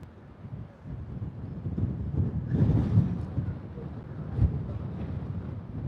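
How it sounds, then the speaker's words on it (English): Low, rumbling wind buffets the microphone steadily on a cruise ship deck, swelling in a couple of gusts, with a faint mechanical drone underneath. "I don't know if you're aware of it in the microphone, but it's quite windy up here."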